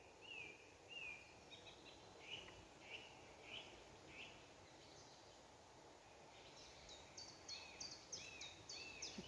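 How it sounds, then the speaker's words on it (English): Several birds sing in an old woodland of big trees on the Offa's Dyke path near St Briavels, their high chirps and warbled phrases repeating at a moderate distance over a steady background hiss, with no talking. "I just thought you'd like to listen to the birds for a sec."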